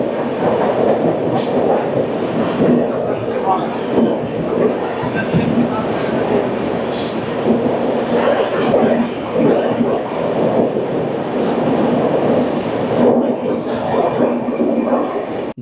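A passenger train runs at top speed between Jharkhand and Bihar, heard from inside the carriage as a loud continuous rumble with rattling wheel clatter and occasional squeals throughout.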